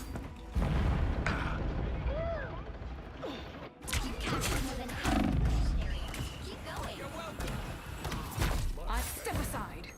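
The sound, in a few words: gunfire from the video game Marvel Rivals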